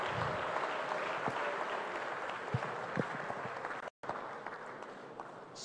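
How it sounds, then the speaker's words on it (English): Audience applause at a food systems forum for the Deputy Prime Minister, a steady broad wash of clapping that carries on throughout, with a momentary dropout near the end. "Another round of applause for the Deputy Prime Minister"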